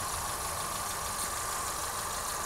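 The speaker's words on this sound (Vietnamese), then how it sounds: "Máy nổ im thít thít các bạn này." A 2010 Hyundai Getz engine idles quietly and evenly, a close, steady low hum with no talking over it.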